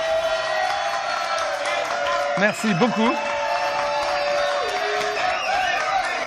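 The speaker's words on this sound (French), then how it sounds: "Applaudissements." Studio audience at a French television comedy news show cheers and applauds, a steady crowd wash running throughout with a voice speaking briefly over it partway through.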